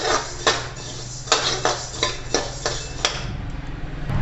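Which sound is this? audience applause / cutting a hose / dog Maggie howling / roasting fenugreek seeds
roasting fenugreek seeds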